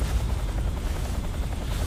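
Helicopter in the Metal Gear Solid 3 stealth video game, a steady loud rotor drone with low thumping, continuous throughout and hovering close, with no talk over it.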